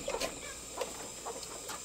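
Semi free-range laying hens cluck softly in short, scattered calls, faint and fairly close, with a low background hum and no talking.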